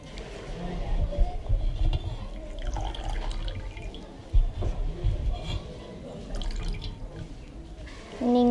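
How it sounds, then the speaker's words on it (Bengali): Water trickles and drips from a towel being wrung out by hand over a basin for a home spa, soft splashes and intermittent dripping with some shuffling of cloth and a voice talking over it. "নিংড়ে জলটা ফেলে দিলাম।"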